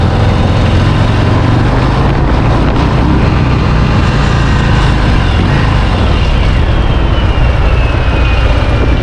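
A 2023 Harley-Davidson Breakout cruiser rides along, its engine a steady, loud low rumble mixed with wind and road noise that holds unbroken throughout.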